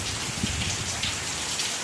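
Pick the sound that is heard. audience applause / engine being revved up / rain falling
rain falling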